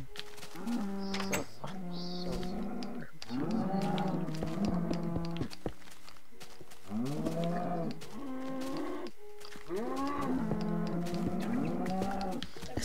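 Cows low in groups in Minecraft Xbox 360 Edition, with repeated bursts of overlapping moos separated by brief pauses. The mooing is moderately loud and heard without speech.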